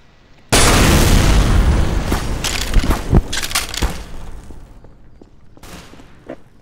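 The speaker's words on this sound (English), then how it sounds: "Stop spawning and trying to shoot me with a rocket launcher." Rocket launcher explosions in Garry's Mod: a sudden loud blast bursts in, followed by a rumbling, crackling run of further impacts and debris pops that gradually fade, with a last smaller burst near the end.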